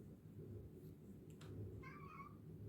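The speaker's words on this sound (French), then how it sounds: "Oui, mon chat." A house cat gives a single short meow near the end, indoors, over a steady low background hum.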